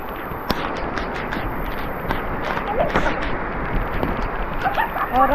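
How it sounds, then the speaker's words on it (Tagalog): Dense, steady rain noise with scattered sharp pops and taps, a constant wash throughout, and faint voices in the background. "Lakas ng ulan."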